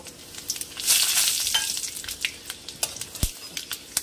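Chopped coriander, cumin, fenugreek and dry chilli hit hot oil in a pan for a Punjabi kadhi, giving a bright burst of sizzling that settles into crackling, with a few sharp clinks of a spoon stirring.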